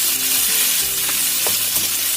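Carrots, potatoes and sausage sizzle steadily in a hot pan, with a few scraping stirs of a utensil breaking through the continuous frying hiss.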